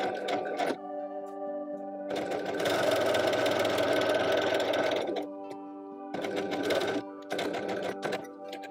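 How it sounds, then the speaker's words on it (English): A sewing machine running a small stitch length with red thread on a small doll blouse, whirring close and steady in several bursts of differing length with short pauses between. "I'm using a red thread in the machine and I'm setting my stitch length to be quite small."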